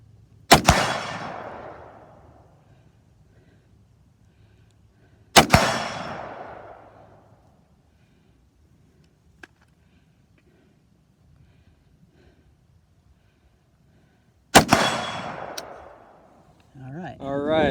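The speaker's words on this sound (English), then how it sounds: "Alright, time to check out our zero at 50 yards with our scoped AR." Three sharp, loud scoped AR rifle shots fired at a 50-yard target on a farm, spaced several seconds apart, each a crisp crack with a short fading tail and quiet between.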